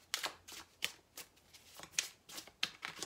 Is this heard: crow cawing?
no